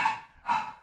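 Two quick dog barks close by, sharp and bright, one right after the other with a short pause between.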